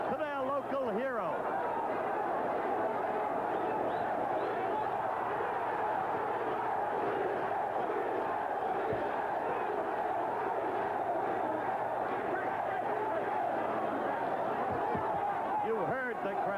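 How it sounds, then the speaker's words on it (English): A stadium crowd roars and chants steadily for the local boxer Benitez during a boxing match against Carlos Palomino in a baseball stadium, with a dense, sustained wall of voices lasting throughout. "You heard the crowd."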